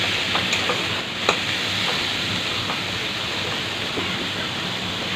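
Jackfruit seeds stirred and fried in a pan give a steady, even sizzle with a few faint scraping taps of the spoon, with no talking.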